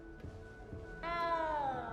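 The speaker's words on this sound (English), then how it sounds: "frightened, little cat." A frightened little cat meows in the video game Hogwarts Legacy, two short soft calls followed by one louder, drawn-out falling meow, heard alone and close.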